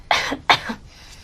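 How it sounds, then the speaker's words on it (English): Two short, dry coughs in quick succession, close and moderately loud, followed by faint room noise. "Just do a little cough for me."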